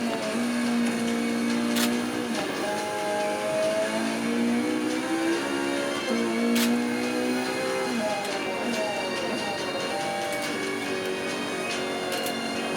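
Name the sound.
car driving on Nürburgring in Forza Motorsport 5 video game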